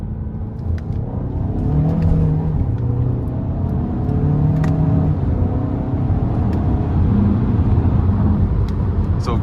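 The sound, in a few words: Kia Sorento 2.5 turbocharged four-cylinder accelerating under throttle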